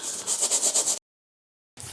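Microfiber towel rubbed briskly over a white sneaker, a close, steady rhythmic scrubbing in quick strokes for about a second, then silence before rubbing resumes.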